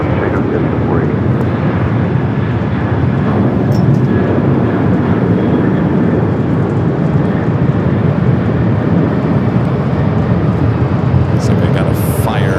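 A Delta heavy jet taking off from runway 24 left at LAX, heard as a loud, steady broadband engine roar throughout, with radio chatter running over it.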